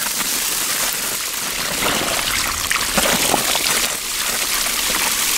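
Water pours steadily from a gate valve on a garden watering system onto a vegetable bed, a constant close trickling splash that runs without a break.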